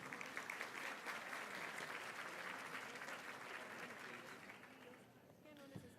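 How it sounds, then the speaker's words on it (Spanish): An audience at the Aprendo 2017 event applauds to welcome a speaker to the stage, a steady wash of clapping that gradually tapers off, with a brief thump near the end. "Le damos la bienvenida al escenario de Aprendo 2017 con un fuerte aplauso."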